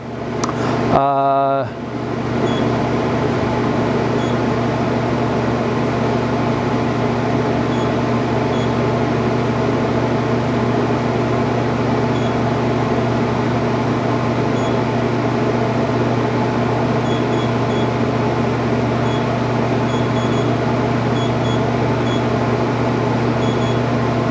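The spindle of a TRAK vertical machining center holds 4,500 RPM with a loud, steady whine and motor hum that does not change for the whole stretch. A brief thump comes right at the start.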